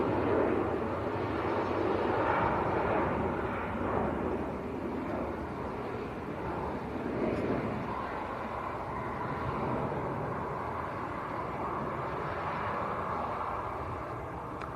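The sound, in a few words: Loganair Embraer jet taking off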